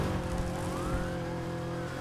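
Police car siren in the Need for Speed Heat racing game, a wailing tone sweeping upward over a dense roar of engine and driving noise, with no voices.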